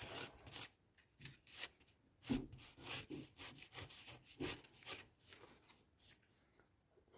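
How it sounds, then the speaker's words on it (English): Fine sandpaper rasps against a balsa wood stick in quick, rhythmic back-and-forth strokes, rounding off its end, soft and close, with no voices. "I'm just twisting and sanding"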